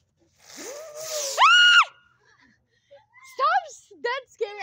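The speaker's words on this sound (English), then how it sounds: "Don't scream." A person screams loudly in a rising, sustained cry, followed by shorter broken shrieks and yelps in a quiet setting.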